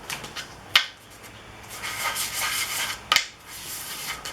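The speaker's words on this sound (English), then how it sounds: "I've just got some sanding to do." Close hand sanding of wooden segmented rings: brushy rasping strokes rubbing back and forth on wood, with a couple of sharp knocks in between.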